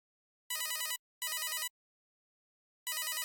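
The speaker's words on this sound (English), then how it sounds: "I pick up the phone." Telephone in the video game SCUM rings loudly and clearly: two electronic bursts in quick succession, a pause, then a third burst begins, with no voices.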